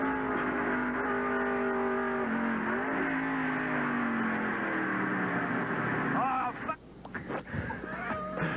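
A race car at the 1989 Banquet Frozen Foods 300 runs off course after hitting oil and slides into the tire wall, its engine droning and shifting pitch before an abrupt scrape and thump, under race commentary.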